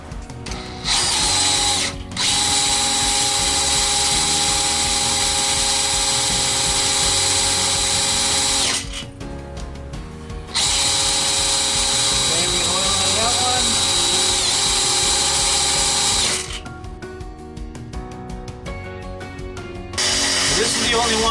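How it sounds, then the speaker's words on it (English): An electric drill spins the oil pump primer on a rebuilt 1985 Corvette engine, whining loudly in long sustained runs with brief stops and restarts, a ratcheting mechanical edge underneath and a voice at moments. "basically you operate it with an electric drill or cordless drill"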